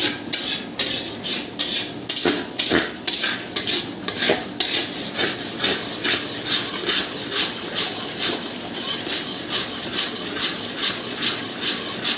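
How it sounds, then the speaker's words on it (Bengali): Masala being stirred in a kadai over a low-medium flame for chicken chaap, with steady rhythmic scraping and clinking of a spatula against the metal pan, close and fairly loud, no talk. "মোটামুটি লো টু মিডিয়াম ফ্লেমে দিয়ে এটাকে এখন আমরা ভালো করে কড়াই কষতে থাকবো"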